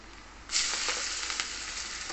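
Vadas made from jackfruit peel fry in hot oil, a sudden bright sizzle that swells as a piece drops in and then keeps up a steady crackling hiss, close and fairly quiet.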